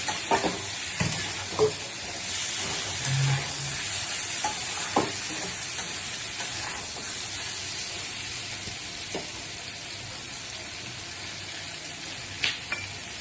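Potatoes frying in a pan make a steady, close sizzle, with a spatula stirring and scraping them at irregular moments throughout.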